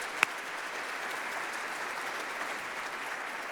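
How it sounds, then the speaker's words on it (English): Steady applause from a large audience at a concert hall dedication ceremony with an orchestra, even broadband clapping, moderately distant, with one sharp nearby clap early on. "Give him a huge round of applause."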